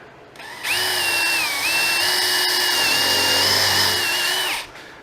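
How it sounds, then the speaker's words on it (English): A power drill with a countersink bit bores a screw hole into wood, one continuous close whine of about four seconds that dips slightly as the bit bites, then spins down. "So it's not only going to pre-drill it, but this area here is going to create a countersink."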